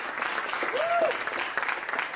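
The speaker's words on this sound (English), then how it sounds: "Oh, I'm here clapping" A man claps his hands steadily for about two seconds, close and moderately loud, with a faint tonal whoosh passing midway.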